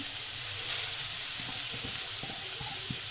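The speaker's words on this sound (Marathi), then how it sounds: "आणि त्या तुपामध्ये मी चांगलं परतून घेते" Half a kilo of grated carrots sauté in ghee for gajar halwa, giving a steady, soft sizzling hiss with faint stirring scrapes, close and uninterrupted without talk.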